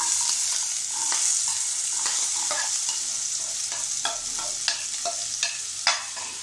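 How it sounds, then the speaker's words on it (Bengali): Potatoes frying in hot oil over a medium flame, a steady close sizzle with soft clinks and stirring scrapes scattered through it, getting more frequent toward the end. "এবার আমি এটাকে মিড ফ্লেমে রেখে আমি এই আলুগুলোকে দিয়ে দেবো"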